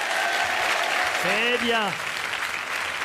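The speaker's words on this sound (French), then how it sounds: "On leur fait un compliment et immédiatement ils applaudissent." A large audience at a political speech in Nice claps loudly in a dense, continuous wash of applause, while a voice speaks briefly over it.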